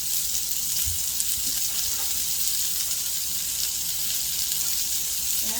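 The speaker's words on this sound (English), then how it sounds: "This is fresh Italian pork sausage, and it's hot." Fresh Italian pork sausage fries in a hot pan as a steady, hissing sizzle, loud and even throughout, with a few faint clicks of a spatula.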